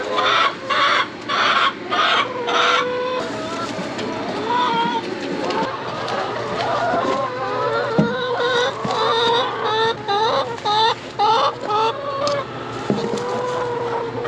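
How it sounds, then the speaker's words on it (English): Chickens cluck steadily in a busy henhouse, with a rooster's crow and scattered bird calls mixed in, close and fairly loud throughout. "now I'm working on feeding chickens and collecting eggs"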